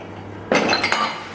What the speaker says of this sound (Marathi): टब भरून फक्त ग्लास आहेत आपल्याकडे